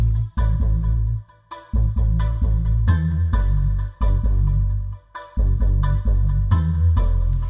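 A looping electronic music track from the Native Instruments Glaze software instrument, with a vocal sample, a deep, punchy bass line and rhythmic synth stabs, repeating in a steady beat with short gaps.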